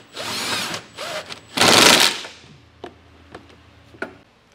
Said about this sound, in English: Now with a 7/8 socket, we're gonna go ahead and tighten these down.